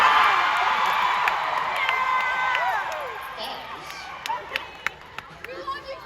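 A large VidCon Anaheim panel audience cheers and roars continuously, the noise tapering off gradually while scattered whoops and claps stand out toward the end.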